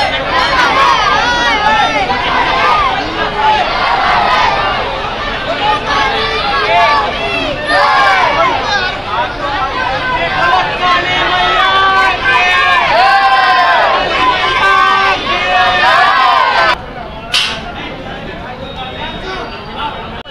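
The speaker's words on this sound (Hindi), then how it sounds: "बाकी यहाँ पे भीड़ आप देखिए बहुत ज्यादा है।" Dense roar of a large crowd gathered for Navratri darshan of Mahakali at Garha Phatak, Jabalpur, with overlapping voices, shouts and chanting filling the space continuously and loudly throughout.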